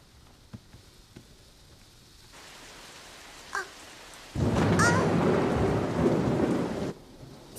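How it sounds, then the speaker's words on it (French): A thunderstorm builds from faint drips to a sudden heavy roar of rain and rolling thunder, with sharp cracks mixed in, loud and close for a few seconds before easing off. "Mais les éclairs et les coups de tonnerre l'effrayaient lui aussi."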